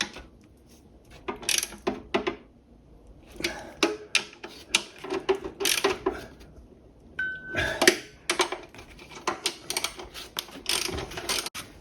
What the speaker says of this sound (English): now we'll just nip those up with a socket